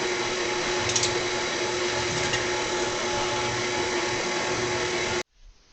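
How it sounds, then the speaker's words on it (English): Stand mixer running on low speed, blending dough with dry ingredients for scratch-made cinnamon buns, a steady whirring motor drone with a faint rhythmic churn that cuts off abruptly near the end. "you're now watching Kristin let the dough and dry ingredients mix."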